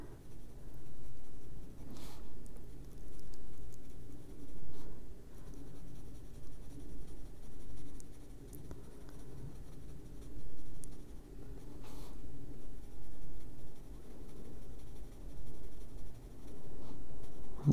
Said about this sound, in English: Just using that pencil really light there.